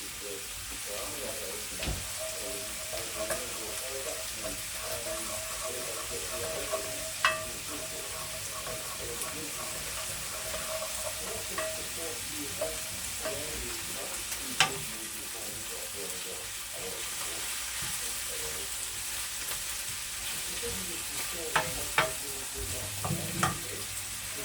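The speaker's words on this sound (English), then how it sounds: "just to sort of start to brown them off and just sort of caramelize them a little bit" Vegetables brown and caramelize in a pan as the base for a lamb shank stew. A soft, steady sizzle runs throughout, broken by occasional clicks and scrapes of stirring, all fairly quiet and close.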